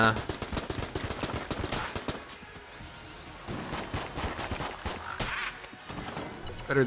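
AK rifle fire in the video game Enter the Gungeon rattles in rapid automatic bursts, loud and nearly continuous, with brief pauses between volleys and other game sounds mixed in.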